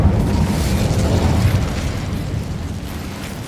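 A fire spell explosion cast in the Hogwarts Legacy video game: a loud, rumbling burst of flame that roars steadily and slowly fades over a few seconds.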